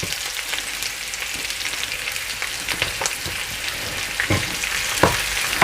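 Masala lamb chops fry in a pan with a steady broadband sizzle, while sharper crackles and pops spike through it now and then.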